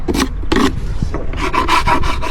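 Metal hive tool scraping beeswax off a wooden beehive, a series of loud, close, raspy strokes, a few spaced apart and then several in quick succession, with no talking.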